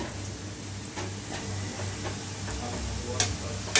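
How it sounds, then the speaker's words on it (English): Steady sizzling of potatoes frying in oil, with a constant low hum underneath and occasional light clicks and taps. "In between, the potatoes are also frying."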